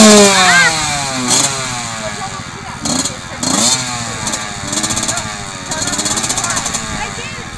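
A small motorcycle engine revs in bursts, rising and falling repeatedly. It sounds close and loud, and people talk over it.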